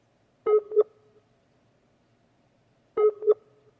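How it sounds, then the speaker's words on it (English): Two short electronic beep bursts from a failing call connection with bad signal, each a quick double tone, separated by a long silent gap. "Beep beep. Bad signal."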